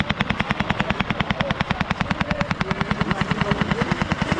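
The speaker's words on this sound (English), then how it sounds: "Some machine gun action there for you gun lovers." A machine gun firing outdoors at a winter spring festival, a fast, even stream of loud sharp shots repeating without pause for several seconds.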